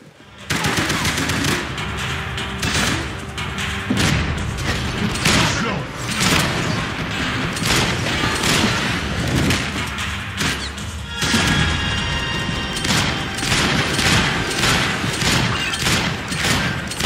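Video game gunfire, with sustained loud bursts of rapid machine-gun fire and scattered heavy thuds and crashes, continuing almost without pause.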